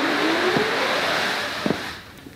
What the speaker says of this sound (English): That is the sound of snow sliding off a Shelter Logic roof.